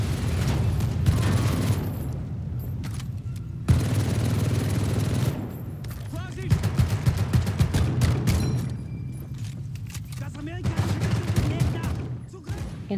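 A mounted machine gun in Medal of Honor: Above and Beyond fires long, loud rattling bursts with booming explosions in between, and some voices are heard amid the battle.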